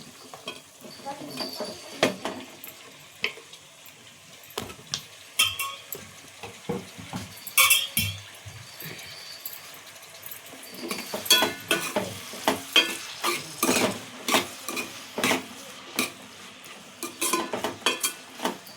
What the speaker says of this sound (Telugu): కొంచెం ఇట్లా కలిపి టమాటా వేసేస్తున్నా